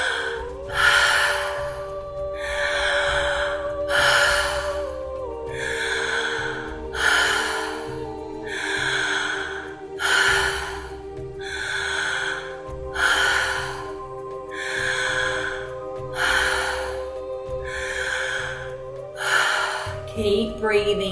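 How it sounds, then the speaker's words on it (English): Rhythmic mouth breathing, deep breaths in and out through the mouth repeated about every two seconds over a steady low drone of meditation music, loud and close throughout. "You're gonna breathe in through the mouth, out through the mouth."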